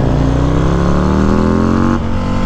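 Engine of a 2021 Harley-Davidson CVO Street Glide motorcycle revving loud and close, its pitch climbing steadily for two seconds before dropping off as the throttle eases, recorded while riding.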